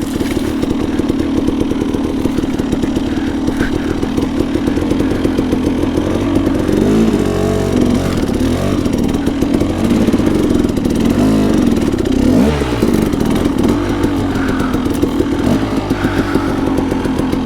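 A KTM 300 dirt bike labours up a sloppy, muddy and rocky hill climb on grip-studded tyres, its loud engine droning continuously close by with uneven surges and revs throughout.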